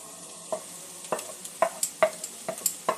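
Paneer and boiled cauliflower cooking in a spiced pan over medium-low flame, with a steady soft sizzle broken by a dozen or so sharp scraping stirs of a spatula, close and moderately loud.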